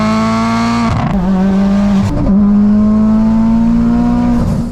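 A Mitsubishi Evo 10 accelerates hard through the gears with a loud, droning engine note, broken by a few brief dips at the gear changes.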